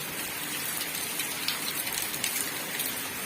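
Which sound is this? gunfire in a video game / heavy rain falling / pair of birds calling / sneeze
heavy rain falling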